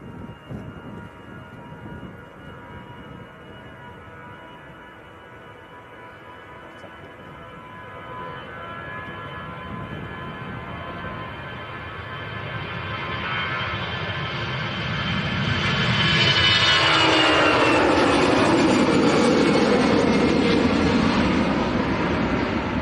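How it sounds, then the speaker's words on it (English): A Boeing 747 jet at Manchester Airport roars in from a distance, its engine rumble and whine building steadily into a loud, broad rush as it passes close overhead, with no talk. "we're going to have a quick look at this 747 before it goes behind the clouds."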